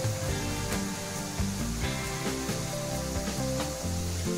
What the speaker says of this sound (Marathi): दोन्ही बाजू तळून व्हायला साधारण 5 ते 7 मिनिटं लागतील।